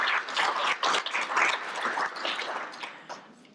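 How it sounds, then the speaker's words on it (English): An audience at a graduation ceremony applauds, a lively burst of clapping that stays full for a few seconds before tapering off. "Let's clap that up."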